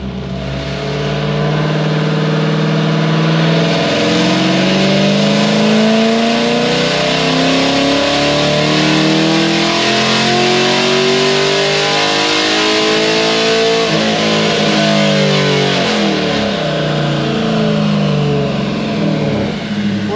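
Cam-only Chevy SS engine on a dyno pull, a loud close roar climbing steadily in pitch through a long full-throttle rev before easing off and settling, with a voice faintly under it.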